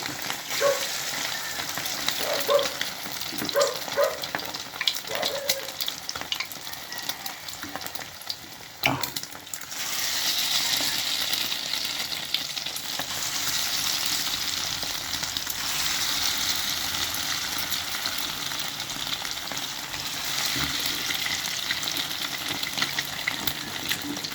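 Bananas fry in hot oil with a steady, bubbling sizzle, broken early by stirring clatters and a sharp knock, then settling into a continuous crackling hiss close by.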